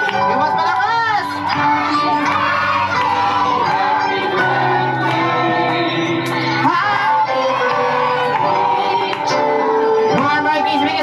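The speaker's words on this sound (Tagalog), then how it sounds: "Mga birthdays, may kasamang palakpakan at sigawan!" Children at a birthday party clap and shout together loudly and continuously, a dense crowd of young voices with chanting and cheering over steady applause.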